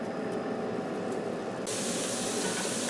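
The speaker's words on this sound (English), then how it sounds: "I have 1 small onion diced up, and I'm going to cook this until it's caramelized" Small diced onion sizzling in a pan as it cooks down toward caramelized, a steady close hiss that turns brighter and louder partway through, with no talking.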